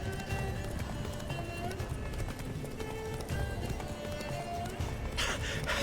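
Hooves of the horse Roach in The Witcher 3 pound in a steady galloping clip-clop, close and continuous, over a dense game soundscape.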